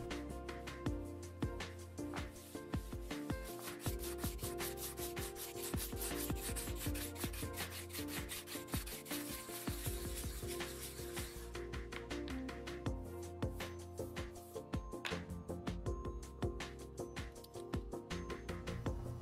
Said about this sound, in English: Matt and Craig began the arduous process of shaping the nose and filling all the low spots with fiberglass resin.